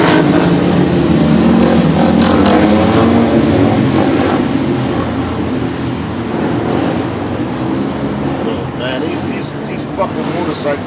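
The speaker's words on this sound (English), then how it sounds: "These fucking motorcycles and dirt bikes, these niggas is retarded, man." Dirt bikes and motorcycles rev loudly and continuously nearby at a campground, engine roar rising and falling for the whole stretch while someone talks over it.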